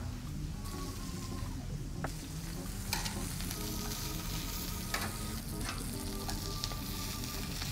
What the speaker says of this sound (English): If you hear a nice sizzle, you know your oil was very nice and hot.